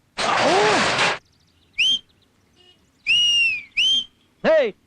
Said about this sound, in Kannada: ಯಾವನ ಎಂಬಲ್ ನೋಡಿ ಸೀಟಿ ಹೊಡಿತಾ ಇರೋದು?